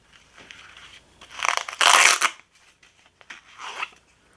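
A fabric pouch for a Victorinox Swiss Tool multitool is handled up close, giving soft crinkling and rustling bursts with one louder scrunch in the middle and quiet gaps between.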